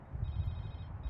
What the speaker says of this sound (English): Cell